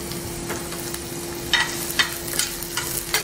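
Chopped onion and green chili fry in hot oil while a utensil stirs them, giving a steady close sizzle punctuated by sharp scraping clinks, with no voices.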